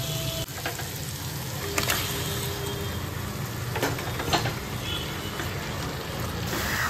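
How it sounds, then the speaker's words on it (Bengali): Marinated chicken tipped into cooked masala in a hot pan, a loud, continuous sizzle and crackle of frying with scattered clinks and scraping stirs throughout, close and steady without speech. "এখানে যে চিকেনটা ছিল ম্যারিনেট করা, সেই চিকেনটাকে এবার এর ভেতরে ঢেলে দেবো।"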